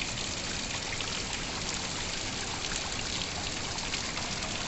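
Rainwater streams steadily over a field embankment during heavy rain in Murud, Konkan, as a constant, dense rushing wash of water that stays even throughout, with no voices.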